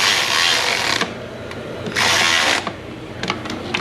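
Power tool tightening bolts on a 2015 Jeep 3.6 oil filter housing, two loud sustained whirring bursts broken by a short pause, followed by a few brief clicks and taps, close by with no talking.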